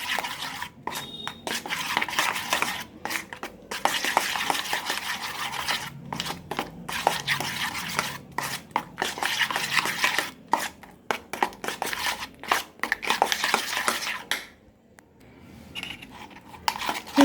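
Cream being churned into homemade butter with ice cubes in a bowl, a rapid, uneven run of scraping, knocking strokes with brief pauses near the end.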